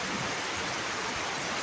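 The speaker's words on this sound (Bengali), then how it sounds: "প্রচণ্ড বৃষ্টি দেখতে পাচ্ছেন" Heavy rain lashes down at Morrelganj market as water collects, a close, steady, loud rushing hiss with dense patter and no speech.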